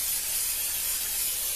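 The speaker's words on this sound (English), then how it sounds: "I'm going to spray this pan" Cooking spray hisses from a can onto a baking pan, one steady close-up burst of bright airy spray lasting about a second and a half without pause.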